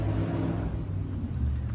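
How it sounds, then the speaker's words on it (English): A motorcycle passes somewhere in the background outdoors, a low, steady engine rumble with a slight rise, moderately faint and alone. "Always get that motorcycle in the back."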